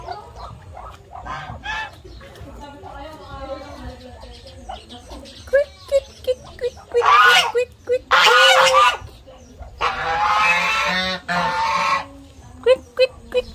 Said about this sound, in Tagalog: Gansa yan, guys